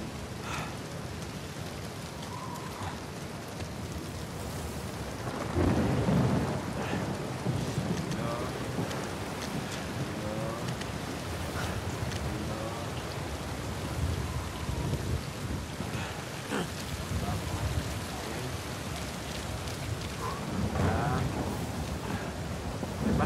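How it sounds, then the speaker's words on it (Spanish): Rain and thunder in Uncharted 4 make a constant downpour hiss, with deep thunder rumbles swelling near 6 and 21 seconds. No talk is heard. "Como que la lluvia me está impidiendo la visibilidad"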